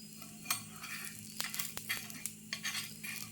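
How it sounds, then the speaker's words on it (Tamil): A dosa sizzles softly on a hot pan with faint crackling, while light taps and scrapes from a utensil come through at irregular moments. "தோசை சுட்டுட்டு இருக்கேன்"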